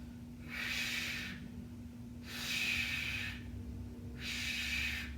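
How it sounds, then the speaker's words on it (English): Heavy breathing during a held workout pose comes as three slow, hissing breaths through the nose or mouth, evenly spaced and close, over a faint steady hum, with no speech. "Hold it. Breathe. Make sure you're not holding your breath."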